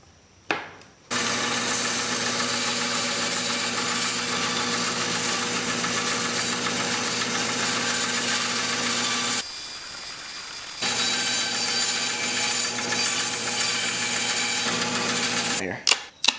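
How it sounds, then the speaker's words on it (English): A bandsaw cutting wood for a jig runs as a loud steady whine with a brief dip midway, starting and stopping abruptly with short knocks at either end. "So if I set up something for the bandsaw, with the blades only sticking out 1/8 of an inch"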